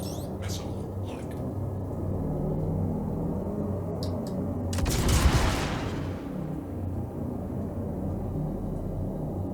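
Missiles launch from a spaceship in a video game as one loud whooshing burst midway, rising over a steady engine rumble with a few short clicks before it.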